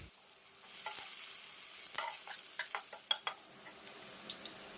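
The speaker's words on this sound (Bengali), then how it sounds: "পেঁয়াজ কুচি দিয়ে দেবো।" Chopped onions dropped into hot oil with fennel seed tempering for a sour fish curry sizzle steadily, with a string of sharp spatula clicks and stirring taps punctuating the frying hiss.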